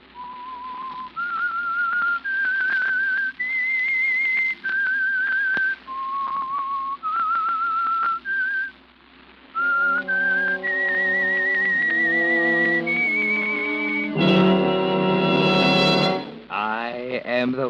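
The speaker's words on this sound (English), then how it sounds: "That whistle is your signal for the Signal Oil Program" Someone whistles a slow, haunting theme melody of sustained notes for the radio drama The Whistler, joined later by orchestral instruments that swell into a loud, dramatic flourish.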